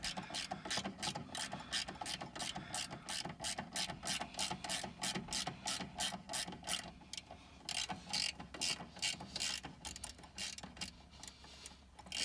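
A torque wrench ratchets while tightening a brake caliper bolt on a 2013 VW Jetta's rear brakes. Rapid, regular clicking strokes come in bursts with brief pauses, close and quiet with no talk.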